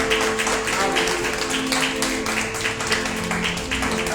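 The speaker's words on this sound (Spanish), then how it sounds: "Dale un fuerte aplauso al Señor." A church congregation gives a strong round of applause for the Lord during a Wednesday service. The clapping is dense and steady, close and loud, over music or a background hum, with no clear words spoken.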